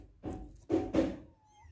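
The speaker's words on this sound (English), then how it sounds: "Yes, I understand about the cat." A cat meows several times in the video game Before Your Eyes, with three short, fairly close cries spaced over under two seconds.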